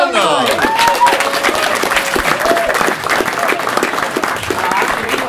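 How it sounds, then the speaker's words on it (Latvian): Audience applause from a crowd at a live event, a dense burst of clapping that carries on steadily for several seconds, with a host's voice calling out over it. "Aplausi!"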